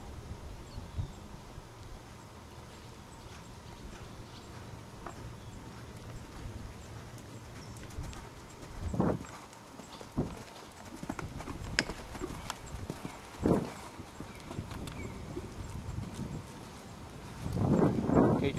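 Hooves of a five-year-old horse clip-clop during a show-jumping riding lesson, a steady rhythmic beat on soft footing with occasional louder thuds, heard at middle distance while an instructor talks now and then.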